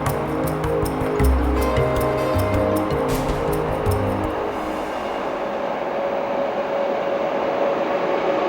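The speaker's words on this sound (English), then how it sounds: "the Stockholm-Narvik overnight train pauses in Kiruna station" A Stockholm-Narvik overnight train stands at Kiruna station, with low rumbling and mechanical tones, some clanking and hiss that fade to a steady idling hum.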